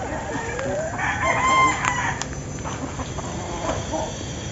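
A labuyo bantam rooster crows loudly and close by on a farm, one drawn-out call with other chickens clucking and crowing around it.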